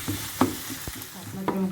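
Minced meat fries and sizzles in a pan with a steady crackling hiss, broken by a few scraping stirs of a utensil, close and fairly loud.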